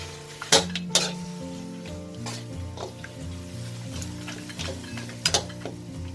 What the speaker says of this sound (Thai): เราจะผัด กระดูกหมูกับกะทิจนกว่ากระดูกหมูของเราจะสุกตึงนะ